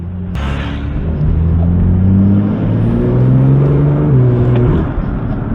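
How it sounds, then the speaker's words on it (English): A BMW M2 turbo engine rumbles loudly up close, rising in pitch as it revs through gears with a faint turbo whistling whir on top. "you can hear the turbos in this car."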